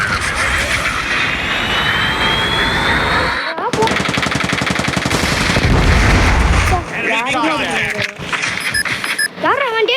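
Rapid gunfire rattles through a busy Call of Duty match, with a shotgun in hand, loud and continuous over game effects and engine-like roar, while someone talks over it.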